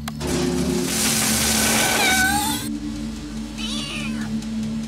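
A cat meows loudly in a drawn-out, wavering cry, then gives a second, shorter meow, over a steady low hum.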